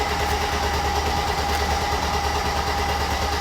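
The engine of a Mercedes R107 SL runs at a steady, loud, close idle with an even low rumble and no change in pace throughout.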